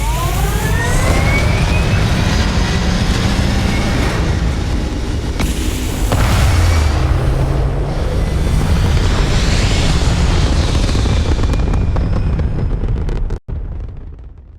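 Spaceship lifting off in the Starfield video game: a loud, sustained roaring rumble with booming bursts builds for about thirteen seconds, then cuts off abruptly into near silence.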